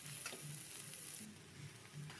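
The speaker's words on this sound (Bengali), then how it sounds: "ভালো করে এখন নেড়ে নেব।" Cauliflower and potato with turmeric fry in a pan for a vegetarian cauliflower curry, a faint steady sizzle with rhythmic stirring scrapes of a spatula repeating every half second or so.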